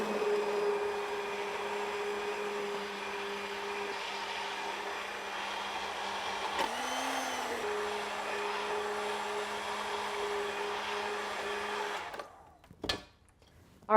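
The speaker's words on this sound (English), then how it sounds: "I happen to have this immersion blender, and so I'm just going to stick it right in here and blend from over top." An immersion blender whirs steadily in a pot of mushroom soup, a close, continuous motor hum with a brief dip in pitch midway before it shuts off near the end, leaving a few clunks.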